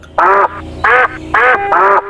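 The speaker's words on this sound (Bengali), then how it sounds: "মাঝে মাঝে সবচাইতে জোরে যে শব্দটি শুনতে পাওয়া যায় তা হলো হাঁসের ডাক" A duck quacks four times in an even rhythm, close and loud, in a quiet village in the Netherlands with little other sound between the calls.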